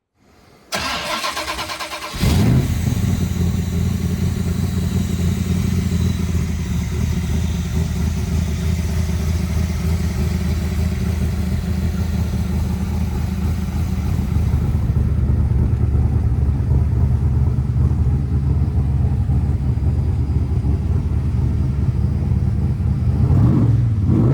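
A 1965 Shelby Cobra Backdraft RT4 with a 427 V8 fires up with a sharp start, then settles into a loud, steady, rumbling idle close by, with a rise in revs near the end and no talking.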